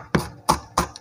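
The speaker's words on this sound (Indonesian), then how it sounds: "Bawang merahnya saya potong iris tipis seperti ini saja." Knife slicing shallots thinly on a cutting board, three crisp, evenly spaced chops in quick succession with short quiet gaps between them.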